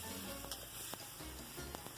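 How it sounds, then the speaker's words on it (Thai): Vegetables sizzle and crackle as they are stir-fried over high heat in a wok with snow peas and fresh shrimp, a steady close frying hiss broken by a few sharp spatula clinks. "การที่เราใช้ไฟ แรงๆผัดผัก ก็จะทำให้ผักมีสีที่สวยงาม"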